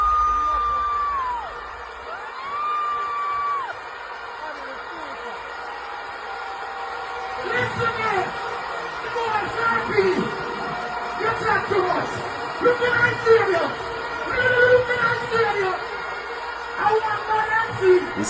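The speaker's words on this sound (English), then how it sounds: "erupted into tremendous applause" A large outdoor crowd roars, whoops and cheers at a performer's entrance at a huge Jamaican concert, a sustained dense wall of cheering with rising peaks, and loud yells surging in after an opening stretch of quieter sound.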